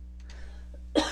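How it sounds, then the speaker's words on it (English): A single sharp cough bursts out near the end after a quiet stretch, close and fairly loud, with no talking around it. "So sorry about the cough."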